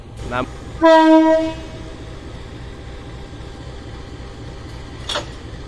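A train at Randu Agung station sounds a loud, short tonal horn blast, with rumbling rail noise beneath and brief clatters before and after; close and clear, no talk.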